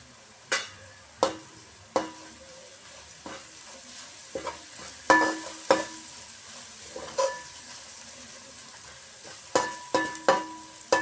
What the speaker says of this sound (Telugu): అల్లం వెల్లుల్లి పేస్ట్ వేగుతుంటే మంచి స్మెల్ వస్తుంది